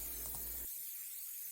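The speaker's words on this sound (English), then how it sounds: "now I'm going to generously spray this mass airflow sensor cleaner on the sensing element" Spray can of mass airflow sensor cleaner spraying onto the sensing element of a car's MAF sensor, a steady close hiss that cuts off abruptly after about two-thirds of a second, leaving quiet.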